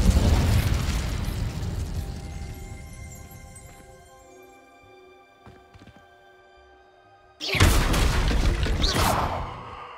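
A fire spell cast in Hogwarts Legacy erupts as a loud fiery burst with a whooshing rush, dies back to a lingering ringing tail, then another sharp blast of flame flares up near the end.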